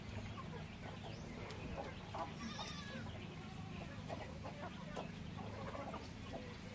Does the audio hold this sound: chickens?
yes